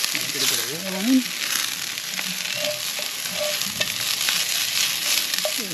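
A cheese kransky sausage sizzles and crackles steadily in oil over charcoal at a campsite, a close, continuous hiss with small pops and some faint background sounds.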